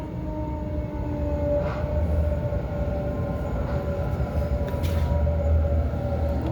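A commuter train rolls steadily near Rooty Hill station on the Sydney line, about 20 km from the city, with continuous low rumble of wheels on rails and a faint high tonal squeal, loud and close from inside a carriage.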